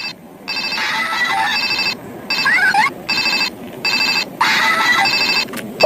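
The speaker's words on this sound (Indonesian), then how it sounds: "Ini ada telepon." A toy telephone rings in repeated electronic bursts, bright warbling tones starting and stopping in an uneven pattern, loud and close.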